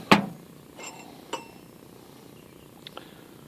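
Hand tools from a hoard of lathe accessories clink as they are handled: one sharp metallic clank near the start, then a few lighter, quieter clinks scattered through an otherwise quiet room.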